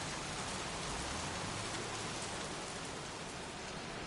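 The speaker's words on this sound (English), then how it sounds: "Jeez, won't this rain ever let up?" Heavy steady rain pours down at a scrapyard in the video game Heavy Rain, a dense unbroken hiss of drops on surfaces that stays even and close throughout with no voices.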